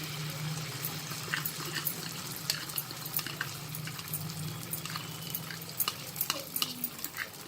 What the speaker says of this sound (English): just spread the oil and then pour the egg mixture into the pan